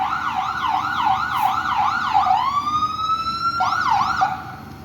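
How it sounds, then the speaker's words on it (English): Ambulance siren wailing at a Boston traffic accident scene, a loud, close, rapidly cycling yelp that shifts into a long rising wail and then resumes its fast cycling. "There's an ambulance behind there."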